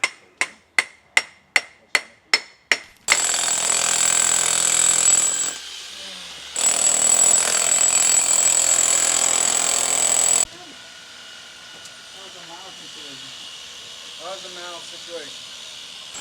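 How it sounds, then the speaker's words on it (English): A series of sharp, evenly spaced hammering blows gives way to long stretches of loud, harsh jackhammer noise breaking concrete pedestals at a pond build, followed by someone speaking nearby. "having to jackhammer these pedestals"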